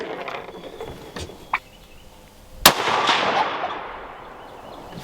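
A Christensen Arms Mesa rifle fires a single sharp, loud shot outdoors after some faint distant pops, and a turkey gobbles right after the report as it trails off.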